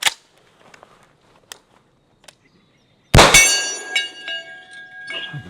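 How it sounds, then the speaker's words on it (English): A CZ Scorpion pistol-caliber carbine fires one sharp, loud shot after a few faint clicks, followed by a lingering metallic ring that fades over about two seconds. "just throw a couple rounds down range with the Scorpion"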